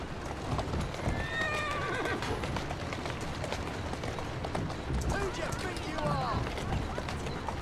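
Hooves clip-clop in a steady galloping rhythm in the video game Assassin's Creed Syndicate, close and fairly loud, with a horse whinnying over the hoofbeats.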